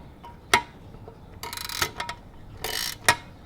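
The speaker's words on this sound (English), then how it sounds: "Yeah, you can ratchet it if you want." A ratchet wrench turns a 10 mm bolt during an engine dress-up kit install, giving a few loud metallic clicks and two buzzy runs of rapid ratcheting, close by with no talk.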